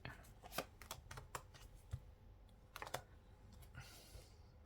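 Tarot cards being laid down and covered on a table, with soft irregular slaps, slides and shuffling clicks, close and fairly quiet, with no talk over them.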